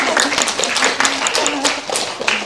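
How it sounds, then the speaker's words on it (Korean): Applause breaks out at a film festival award presentation, a close, loud patter of individual claps with distinct sharp hits, mixed with some speech. "박수 부탁드립니다."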